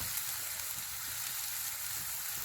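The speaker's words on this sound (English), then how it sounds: "It's sizzling." Olive oil sizzling in a cast iron pan over a campfire, a faint, even crackling hiss that holds steady throughout with no talk.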